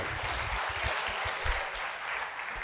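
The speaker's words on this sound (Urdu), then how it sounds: "تالیاں بجائیے، بہت اہم لوگ ہیں" An audience at an Urdu literary conference in Karachi claps together, giving a steady, dense wash of applause from a hall with a low rumble underneath and no speech.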